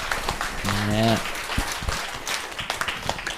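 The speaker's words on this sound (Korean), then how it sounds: "박수를 많이 주세요" An audience on a Buddhist monk's talk show gives scattered applause, light clapping spread under a voice that briefly speaks and a short tonal hum mid-way.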